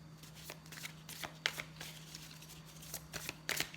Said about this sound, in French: Je vais prendre une carte de Dixit Harmonie